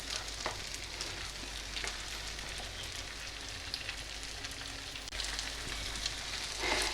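Goat brain (bheja) frying steadily in a pan for a kitchen brain fry, a soft continuous sizzle with faint crackles and a slight rise toward the end, no talking.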